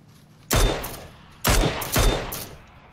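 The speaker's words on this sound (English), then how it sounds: "Keep shooting them." Three sharp, loud bursts of gunfire ring out in a video game battle, each with a short booming tail, closely spaced within a few seconds.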